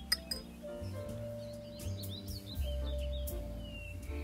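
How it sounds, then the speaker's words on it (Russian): A teaspoon clinks against a glass of Amrut Fusion Indian single malt whisky as a small splash of water is added, giving a few light, close glassy taps and tinkles over a low steady background hum. "Итак, попробуем с водичкой. Добавим буквально половину чайной ложечки."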